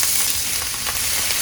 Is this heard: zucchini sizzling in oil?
yes